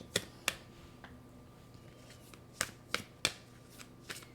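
Moonology oracle cards shuffled by hand, a handful of crisp sharp riffling snaps and softer flutters spaced irregularly, close and quiet, with no talk.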